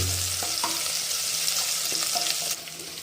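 Crushed shallots and kanthari chillies fry in coconut oil with a continuous close sizzle, a few utensil taps and stirring scrapes, quieting near the end.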